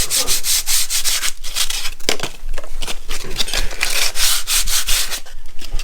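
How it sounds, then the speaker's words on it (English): Rough wooden edges get a light hand sanding: close, brisk back-and-forth rubbing strokes repeat in a steady rhythm throughout. "So literally a little light sand round."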